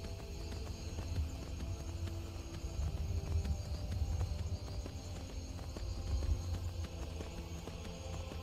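Horse hooves clop steadily in the video game Skyrim, a continuous muffled gait under a low game ambience, fairly quiet and distant-sounding.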